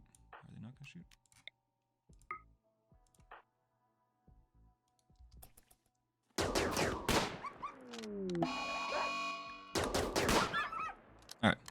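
Gunfire in the RimWorld video game sounds as a burst of rapid, loud shots and clattering impacts that starts after quiet game clicks and beeps, with a few sharp cracks near the end.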